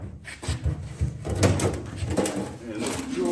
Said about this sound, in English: the drawer should just slide out